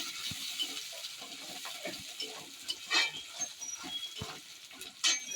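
Chopped onions fry in a pan with ginger and chilli, a soft steady sizzle broken by scattered stirring clicks and scrapes from a spatula, fairly quiet with no talking.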